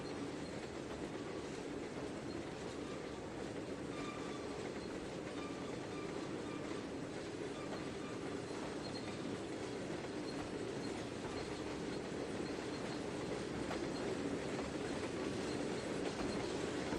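A diesel locomotive shoves a cut of heavy, loaded cement hoppers in the Trainz 2019 train game, giving a steady, continuous rumble with faint wheel and rail noise throughout and no talking.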